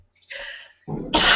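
A single sharp sneeze bursts out close to the mic after a quick indrawn breath, followed immediately by a short spoken reply.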